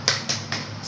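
Three sharp snap-like claps spaced evenly in the tepuk semangat class chant, each a crisp close burst with short gaps, played out by a primary school class in an Islamic faith lesson.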